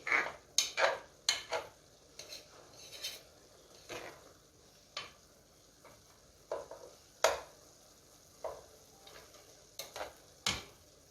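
Meat and onions cooking in a covered pot for okra stew, a faint background sizzle with a string of light clinks and scrapes from a spoon or lid, quiet and close.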